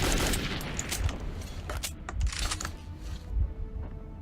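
Gunfire from a first-person shooter set in Metro 2033's dark tunnels: a few irregular bursts of shots and low booms scattered over a few seconds, moderately loud with a rumbling background and no talking.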